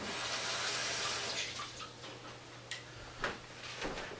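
Running tap water used to rinse small, potent onions flows in a soft, steady hiss, followed by faint ticks and splashes as the stream is interrupted.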